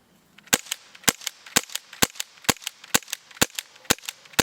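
A CO2 air gun is fired repeatedly on a fresh cartridge, about ten sharp, evenly spaced shots at close range, each crack slightly weaker as the gas pressure drops.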